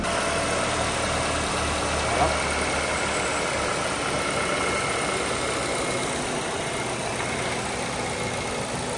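A Volkswagen Polo GTI Edition 25 engine, with 23,000 km, idles steadily up close under the open bonnet with a constant low rumble, while someone says a brief word over it.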